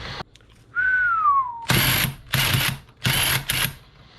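A Makita power tool runs in several loud, harsh bursts separated by short pauses, preceded by a brief rising whine.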